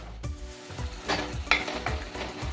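A pan of mango and mustard paste bubbles and simmers close up, with soft rhythmic plopping and a faint sizzle repeating about every half second.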